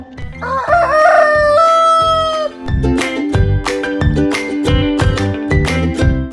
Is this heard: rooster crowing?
yes